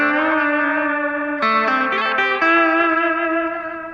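An effects-laden electric guitar played with the side of the pick in upstrokes, using the tremolo arm. Warm, reverberant sustained notes shift pitch in the middle, loud and alone.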